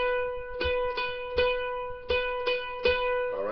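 Mandolin playing a sustained double-stop in Boil Them Cabbage, the note picked repeatedly about seven times in a steady rhythm while it keeps ringing, close and clear with no talk.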